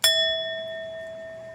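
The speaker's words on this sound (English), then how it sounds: "hit a little bell" A small bell is struck once, a sharp close strike that rings on with a clear, slowly fading tone.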